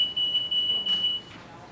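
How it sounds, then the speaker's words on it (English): A 3M library security gate alarm sounds a loud, piercing electronic tone in repeated bursts with brief gaps, one long sustained stretch in the middle, over a soft background hiss. "A properly functioning system will sound the alarm"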